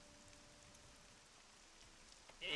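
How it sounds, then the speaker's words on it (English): Rain falls in the video game Morrowind, played on OpenMW, as a faint, steady, even hiss with no voices and a brief louder sound right at the end. "It's raining!"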